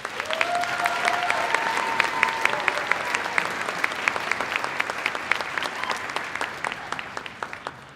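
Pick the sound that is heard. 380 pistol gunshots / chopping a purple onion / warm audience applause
warm audience applause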